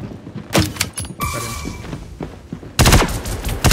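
Weapon fire in the first-person shooter Star Citizen after picking up a grenade launcher: several sharp, loud shots and thuds in quick bursts, with a short quieter stretch and a dense, heavy volley at the end.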